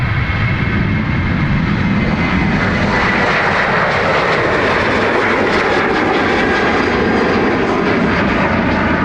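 A jet aircraft roars at Dublin Airport, a loud, sustained engine blast that stays close and powerful from start to end, with no talking.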